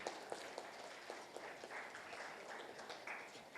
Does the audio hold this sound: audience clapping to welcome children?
yes